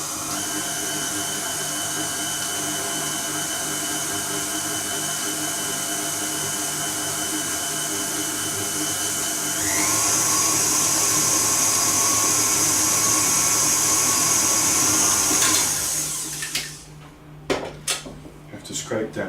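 A stand mixer creams butter and flour together for puff pastry, giving a steady whirring motor hum that rises in pitch and loudness partway through, then cuts off into a few faint clinks.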